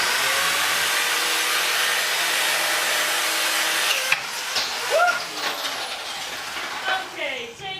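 An angle grinder fitted with a wire brush attachment whirs steadily at close range, then cuts out into brief scraping and clattering with short bursts of talk.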